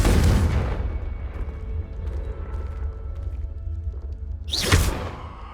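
A Confringo fire spell explosion in the video game Hogwarts Legacy, a heavy boom at the start that fades into a rumbling tail, then a second sharp whooshing blast near the end, loud, no talking.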